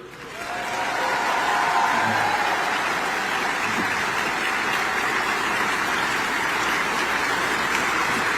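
Sustained crowd applause for U.S. Senator Dick Durbin at a Democratic event, a steady dense wash of clapping that swells in over the first second and holds loud and even to the end.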